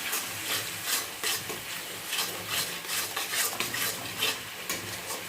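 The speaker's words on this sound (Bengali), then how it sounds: "মশলাটা ভালো করে কষে নেব" Spice paste of cumin and coriander powder with salt and turmeric is stirred and fried in a pan, giving a steady sizzle with rhythmic scraping strokes close by.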